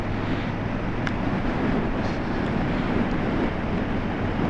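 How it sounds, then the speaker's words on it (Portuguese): Strong, constant wind at the Ria de Aveiro kitesurf spot, a loud broadband roar buffeting the microphone with the wash of nearby water, steady throughout with no voices. "está sempre uma ventania do caraças"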